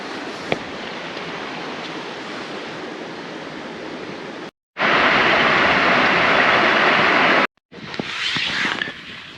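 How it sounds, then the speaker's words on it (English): A wilderness river flows past a backcountry campsite, a constant broadband rush of water heard up close and fairly loud, broken by two abrupt cuts, with no one speaking. "Checking out the river by our camp"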